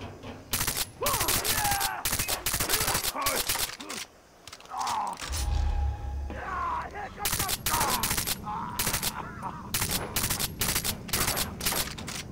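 Rapid automatic gunfire in Far Cry 3, dense bursts of shots fired in quick repeated volleys, loud and close, briefly dropping to a low rumble midway before the firing resumes, with someone talking over the action.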